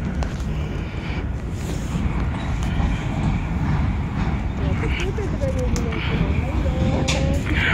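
The steady low rumble and clatter of a passing train, with wind buffeting the microphone throughout.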